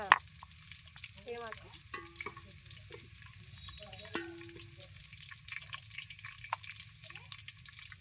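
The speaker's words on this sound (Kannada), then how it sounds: "ಈಗ ನೋಡ್ರಿ ಎಣ್ಣೆ ಬಿಸಿ ಆಗಿರ್ತದೆ ಇದಕ್ಕೆ ಬೆಳ್ಳುಳ್ಳಿ ಹಾಕೋತೀನಿ" Garlic frying in hot oil in a home kitchen, giving a steady crackling sizzle with occasional clicks and scrapes from stirring, moderately quiet and close.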